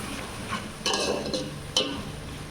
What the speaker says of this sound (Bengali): কিছুক্ষণ আদা রসুন ভাইজা নিব